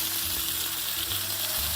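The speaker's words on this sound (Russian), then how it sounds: "Все, начинаем обжаривать." Squid stuffing fries in a little sunflower oil in a steel pan, making a steady, close sizzle with no pauses.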